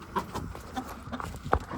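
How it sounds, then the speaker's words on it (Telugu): Turkey hens in a rooftop loft give a few scattered short clucks and calls over a steady noisy background, fairly close but not loud, with no talking. "దీంట్లో అయితే టర్కీ కోళ్ళు ఫ్రెండ్స్."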